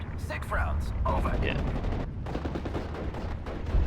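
Machine gun fire and other battle noise from the Steel Division Normandy 44 video game, set at Utah Beach, rumbling continuously with bursts of shots under radio-style voices talking.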